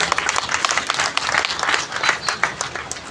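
An audience of insurance team members at a divisional meeting claps loudly and densely, a full burst of many hands that swells and stays strong, close and lively.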